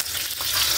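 Hot oil crackles and splatters around frying pork, a dense, close sizzle that stays steady through the brief moment.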